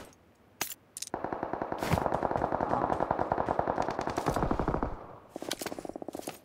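Rapid automatic gunfire in a video game, loud close bursts of fast repeated shots with brief gaps and a sharp single report at the start, no talking over it.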